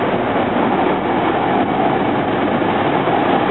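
A SEPTA R3 commuter train to Elwyn rumbles steadily past at close range through 30th Street Station at night, a continuous roar of wheels and rail cars with faint rhythmic clatter.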